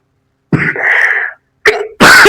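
Two or three sharp, close coughs in quick succession, harsh and raspy, separated by brief silences.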